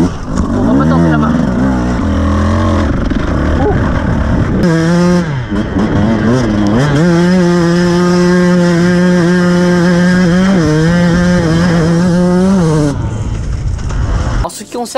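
A Beta 200 X-Trainer enduro motorcycle being ridden at an enduro test day, its engine loud and close, climbing and falling through the revs with sustained high-pitched buzzing throughout.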